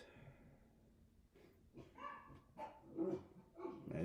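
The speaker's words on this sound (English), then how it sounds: "I don't know if you hear these dogs, man." Several dogs bark in short bursts at mid distance, with a few yips and whimpers mixed in, over a quiet background.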